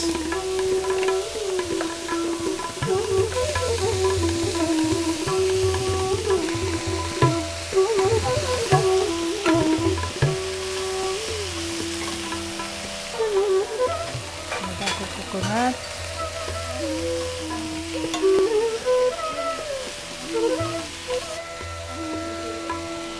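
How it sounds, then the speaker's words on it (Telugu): Peas frying with grated coconut in a pan, a steady loud sizzle with occasional stirring scrapes, running continuously with no talking. "కొబ్బరి తురుము వేసి మరో 2 నిమిషాలు వేయించాలి."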